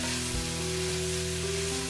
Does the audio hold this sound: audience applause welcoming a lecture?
no